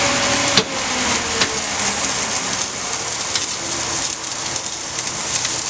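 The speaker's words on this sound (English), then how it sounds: "the aged balsamic vinegar that we're going to drizzle on here. It is pretty difficult to ingest because the skillet's so hot." Aged balsamic vinegar drizzled lightly into a very hot skillet of stir-fried vegetables gives a steady, dense, close sizzle with a few brief pops and no voices.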